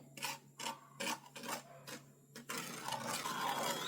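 Two spoonfuls of semolina are dry-roasted in a pan for a Ramadan thari kanji. A spoon scrapes through the grains in close, rhythmic strokes, then settles into a steady gritty rasp, with no talking.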